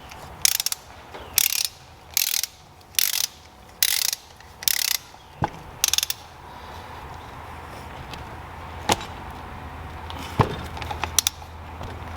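A hand ratchet tightens fasteners on a Hydro Gear ZT-5400 transaxle, giving several bursts of fast clicking pawl ratcheting in a steady rhythm, close up, followed by a few scattered metallic clicks and taps.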